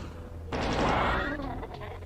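Doom chaingun firing a short, loud burst of rapid shots that cuts in suddenly and lasts about a second.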